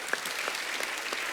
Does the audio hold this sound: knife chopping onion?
no